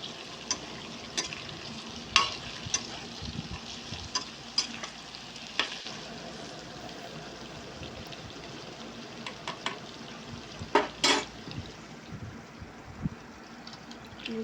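Okra curry cooking in a pan, a low steady sizzle and simmer with scattered sharp clicks and spoon scrapes, close but fairly quiet, no talking.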